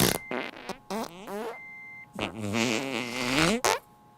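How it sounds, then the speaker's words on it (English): A doctor at a medical center is represented by a comic fart sound effect: a few short sputters, then a longer, wavering, drawn-out blat, with a brief electronic beep in between, fairly quiet. "That same day at the medical center, a doctor farted."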